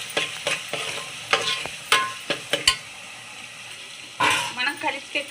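Chicken biryani is being stirred and mixed in a pan, with a series of scraping spoon strokes and soft sizzling, irregular bursts close by, and a voice talking in between.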